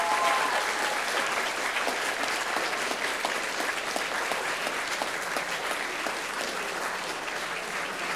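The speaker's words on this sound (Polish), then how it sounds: "Proponuję gromkie brawa dla zwycięzców." Steady, loud applause fills the hall for the winners of a small theatre and film forms contest, continuous crowd clapping with no pause from start to finish.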